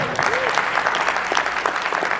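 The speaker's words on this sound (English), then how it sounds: "can we even clap it up for that we live in this time?" Audience at a podcasting conference keynote bursts into dense, steady applause filling the room, loud and sustained for a couple of seconds with scattered claps standing out.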